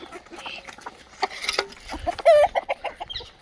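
Desi free-range hens cluck and squawk close by on a poultry farm, a loud burst of cackling midway, with a voice talking over the farmyard noise.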